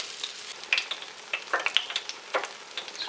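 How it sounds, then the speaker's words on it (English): Fish deep frying in hot oil for fish and chips, a steady close crackling hiss with scattered sharp pops and spits, no voices. "It's a fun little sizzle there."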